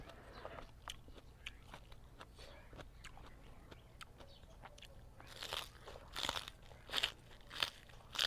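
Crunchy bites into fried Vietnamese egg rolls, several loud crisp crunches close to the mic in the second half, following quieter chewing and small crackles.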